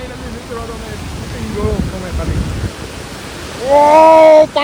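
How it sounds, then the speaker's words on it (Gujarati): Water thrown up by a quarry blast rains down on people as a steady broadband rush. Voices talk over it, and a loud shout breaks out near the end. "ઓ પાણી અમને પલાળી દીધા છે હાવ."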